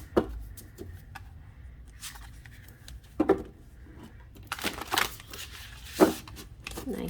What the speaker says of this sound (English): this is how I shuffle big cards like this